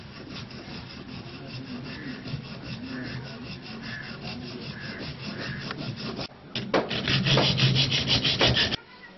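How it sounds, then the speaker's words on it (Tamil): A 3/4-inch strip is rubbed by hand to smooth off its rough burrs, with steady rhythmic scraping strokes close by. Near the end the strokes turn faster and louder before stopping abruptly. No one speaks. "பட்டையை சொரசொரப்பான விரும்புகள் நீங்கும் வரை தேய்த்துக் கொள்ள வேண்டும்"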